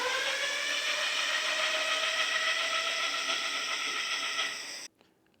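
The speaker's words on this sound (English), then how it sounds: "Let's see what this rear motor runs up to." A WALLKE H7 AWD e-bike's rear hub motor spinning up on pedal assist 5, a steady, fairly close electric whine with a buzzing mechanical hum that holds, then stops abruptly.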